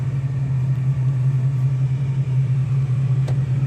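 A 1965 Ford Mustang Fastback drives along with a steady, low engine rumble and a constant drone from inside the cabin, with no clear gear changes and no talk.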